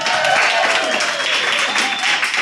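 A big crowd at a live show in Riverview Park and Zoo cheers and claps loudly and steadily throughout, a dense wash of applause and voices.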